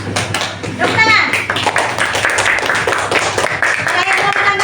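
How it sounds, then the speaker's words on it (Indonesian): Children in an Indonesian classroom clap for a student group presenting its work, a dense, loud patter of many hands that lasts throughout, mixed with children's voices. "Tepuk tangan untuk kelompok anggrek."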